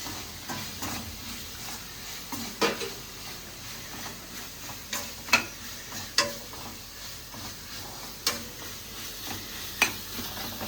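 Homemade mutton masala frying in oil in a pan, a continuous close sizzle and hiss marked by repeated sharp clicks and scrapes of stirring, with no voices.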